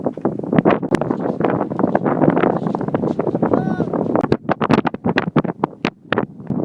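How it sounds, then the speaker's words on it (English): Strong desert wind buffets the microphone beside the Meroe Pyramids in Sudan, a loud, continuous roar with gusty bursts and rumbling surges throughout. "it's really windy"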